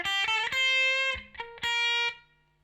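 Distorted electric guitar playing a short bridge lead line from a song, a few sustained bright notes with quick slides and breaks between them, played alone.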